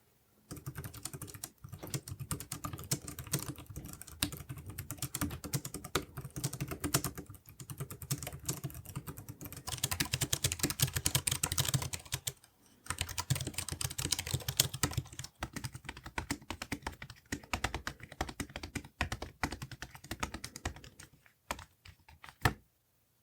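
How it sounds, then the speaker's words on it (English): Steady typing on a portable keyboard, rapid clattering keystrokes in bursts with brief pauses, close and fairly quiet. "how it feels when you type on it and how loud it is when you type on it"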